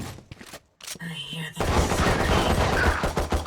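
A brief crackle of gunfire in Valorant, a few quick shots early on, followed by a louder stretch of overlapping game noise and a talking voice.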